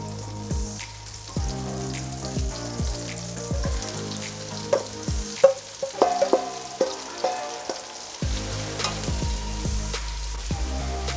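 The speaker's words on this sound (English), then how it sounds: "Sauteing these leeks until they're softened." Leeks sauté in a pan for potatoes au gratin, giving a soft, crackly sizzle with scattered pops and stirring clicks, close and fairly quiet, with a brief busier patch of taps midway.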